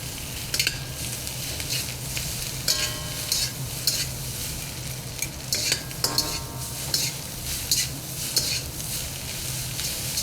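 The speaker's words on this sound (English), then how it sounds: "And we're gonna stir them. We're gonna vigorously toss them." Chow mein noodles being vigorously stirred and tossed in a hot pan, a steady sizzle and frying hiss with repeated scraping clatters of utensil against the pan throughout, close and busy with no talk.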